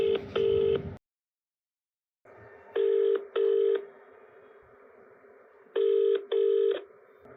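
Telephone call being placed: paired dual-tone dialing beeps at the start, then a ringback tone that repeats twice, each time as two quick rings in a steady cadence over a faint line hiss.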